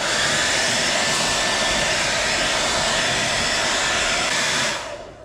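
A heat gun warms the fender of a Nissan 300ZX twin turbo during fender rolling, giving a loud, steady, close blowing roar for about five seconds before it cuts off.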